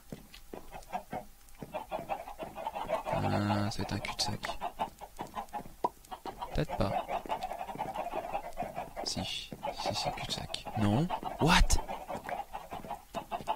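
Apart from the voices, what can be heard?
chickens clucking in a video game maze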